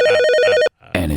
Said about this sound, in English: there's a phone in the White House, and it's ringing